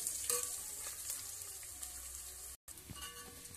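Onions with ginger paste fry in a pan for jeera rice, giving a steady, close sizzle with occasional stirring scrapes and a brief cut-out near the end.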